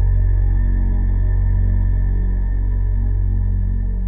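Bass guitar run through a subharmonic synthesizer and shimmer reverb, a loud, steady low drone with a sustained shimmering wash above it, heard alone for about four seconds.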